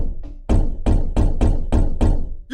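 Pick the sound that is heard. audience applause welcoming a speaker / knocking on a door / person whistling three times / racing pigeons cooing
knocking on a door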